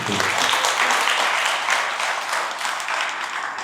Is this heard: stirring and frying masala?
no